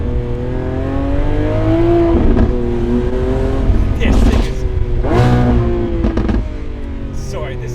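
A Lamborghini Aventador SVJ Roadster accelerates hard, its engine note climbing through several gears in rising sweeps with short breaks at each shift, loud and close, with a voice talking over it.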